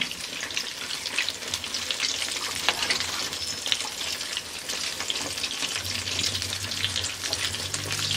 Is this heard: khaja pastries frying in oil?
yes